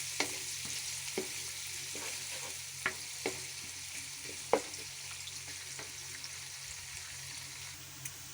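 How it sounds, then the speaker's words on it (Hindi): Two medium onions frying in oil in a pan for aloo gosht, a steady close sizzle with occasional stirring scrapes and clicks throughout. "और 2 मीडियम साइज़ के प्याज मैंने लिए हैं। इनको हल्का ब्राउन कर लेंगे हम।"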